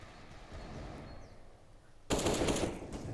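Gunfire from the video game CS:GO, heard during a competitive esports match: quiet background game noise, then a loud burst of rapid automatic fire that keeps going to the end.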